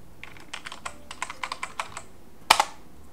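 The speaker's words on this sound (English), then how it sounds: "and type in the password." Password typed on a computer keyboard: about a dozen light, evenly spaced key taps over two seconds, ending with a louder double clack of the enter key.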